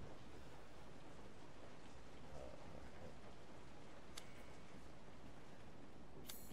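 Continuous rainfall in Resident Evil 7 spreads as a soft, uniform wash of noise, fairly quiet and distant, with a couple of sharp brief ticks near the end and no talking.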